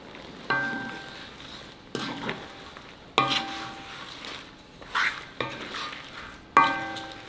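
A utensil stirs butter shrimp in a pan to spread the seasoning, giving five or six scraping, clinking strokes at irregular intervals over a soft background sizzle, close by with no talking.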